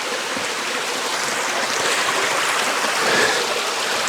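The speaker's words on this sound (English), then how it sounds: "Really cool little cascading waterfall or rapids or however you want to say that." Small cascading waterfall or rapids deep inside a cave, a steady broadband rush of falling water that holds close and even throughout with no voices.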